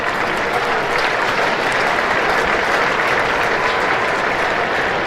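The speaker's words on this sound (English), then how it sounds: "round of applause for the batting side there." Cricket crowd at a Notts Outlaws v Durham match applauding the batting side after a hundred comes up, a steady wash of clapping that holds evenly for several seconds.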